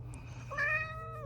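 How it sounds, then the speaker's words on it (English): A single clear cat meow, short and rising then falling, close by over a low background hum. "You're a pretty kitty. I know, and so talkative."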